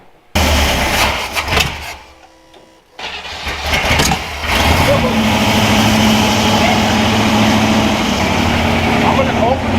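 An old Willys wagon engine cranks and catches with popping, backfiring bursts, then runs loud and rough with bad timing, close by, with people talking over it.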